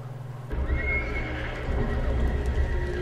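Horses neighing and whinnying in a fantasy TV drama set in a medieval world, loud and continuous after a brief quiet start, with hoof clip-clop mixed in.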